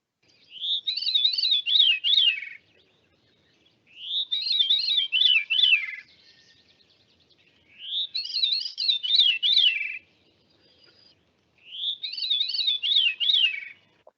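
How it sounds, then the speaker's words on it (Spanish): A bird call from an original field recording: four clear, high warbling phrases, each a rapid series of rising and falling notes, evenly spaced with silence between them. "Sí, ahí vemos uno de las aves. Escuchemos la grabación original."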